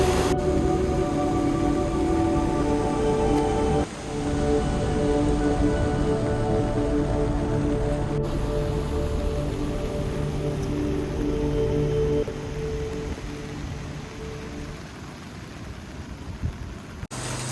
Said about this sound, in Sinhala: පොඩි වෙන වැස්සක් යනවා.